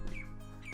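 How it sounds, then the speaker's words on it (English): A bird chirps outside a window, two brief faint tweets heard indoors against a steady low room hum. "There's a bird outside of my window."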